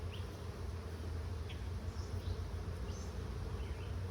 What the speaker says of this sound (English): got bees all over my foot now